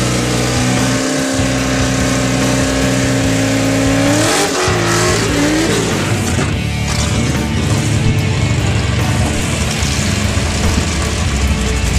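Drag racing cars at Great Lakes Dragaway roar loudly and continuously, with high engine revs, sweeping pitch changes and a brief squeal as cars launch and accelerate down the strip.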